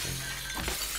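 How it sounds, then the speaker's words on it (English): Glass shatters in a game, a sudden bright crash of breaking shards that fills the short moment loudly and up close, with no voices over it. "I broke the glass."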